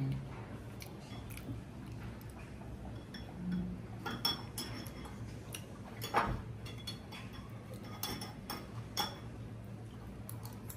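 Spoon clinking and scraping against a glass while scooping up boba balls from a homemade bubble drink, giving soft repeated taps and chewing-like clicks at close range with no talking.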